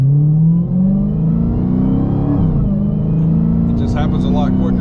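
A Dodge Challenger Hellcat engine revs hard and climbs steadily in pitch as it accelerates, loud and close, with a brief higher whine near the end.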